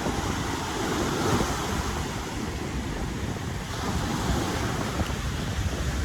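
Ocean waves at the beach roll in a continuous, broad rushing wash mixed with wind buffeting the microphone, loud and steady throughout with no distinct breaks and no talk.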